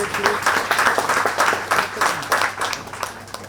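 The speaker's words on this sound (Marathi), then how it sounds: "सर्वांनी जोरदार टाळ्या वाजवायचे या ठिकाणी" An audience at an astrology convention gives dense, sustained applause, many hands clapping together in an even, lively roar from close by, with no speech over it.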